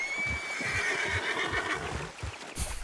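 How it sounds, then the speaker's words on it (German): A horse whinnies loudly and continuously in Red Dead Redemption 2, a long, shrill, wavering neigh heard up close alongside low thudding hoof sounds. "Da brecht auf einmal das Pferd los und der Alpha fliegt durch die Luft."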